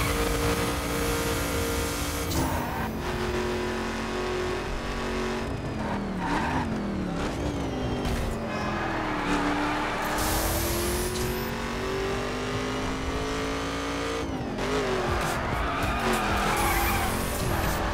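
A car in the racing video game The Crew drives at speed with a steady engine drone, shifting pitch as it revs, while tires squeal and skid through several turns.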